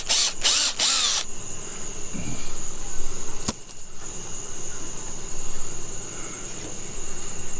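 Cordless power drill backing out a screw during a honey bee trap-out, with short whirring bursts at the start and a quick tap midway, over a steady background hum; no voices.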